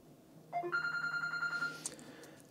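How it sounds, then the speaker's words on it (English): Telephone ringing nearby, a short tonal electronic ring pattern with a couple of rising notes followed by a sustained warbling tone, fairly clear and alone over quiet room tone. "And that'll be the phone."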